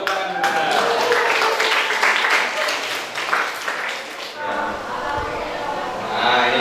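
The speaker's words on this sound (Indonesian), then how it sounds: "Silakan tepuk tangan dulu." Students clapping hands in a classroom during a physics lesson, a brisk burst of many hands that tapers off, with a teacher's voice heard over and after it.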